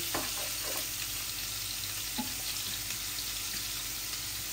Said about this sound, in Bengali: আর এখন মাছগুলা ভেজে নিব।